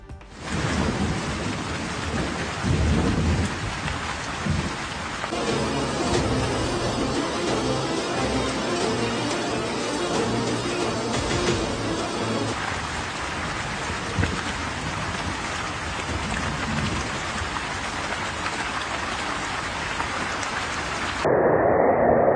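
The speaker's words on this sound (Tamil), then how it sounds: "சீனாவின் கின்ஜோ பகுதியில் வெளுத்து வாங்கிய கனமழையால் வெள்ளத்தில் மிதக்கும் நகரம்." Heavy rain pours steadily in a flooding Chinese city, with thunder rumbling low beneath the constant dense hiss of the downpour throughout, loud and close, with no voices.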